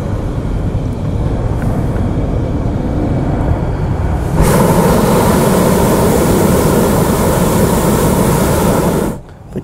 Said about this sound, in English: They hit the burner.